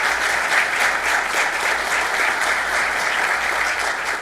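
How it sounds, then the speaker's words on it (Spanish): An audience at a mining safety regulation event claps steadily in sustained applause, a dense even patter of many hands with no voices standing out. "por favor con el público un fuerte aplauso para todos ellos"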